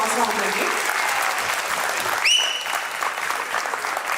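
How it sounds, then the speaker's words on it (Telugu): Clapping from an audience at a Telugu community event in Dallas forms a dense, steady wash of applause for a few seconds, with a brief whistle-like tone rising above it partway through. "సో మన డాలస్ చెప్పినందుకైనా చప్పట్లు ఇంకా మళ్ళీ గట్టి కొట్టాల్సిన అవసరం ఉందండి"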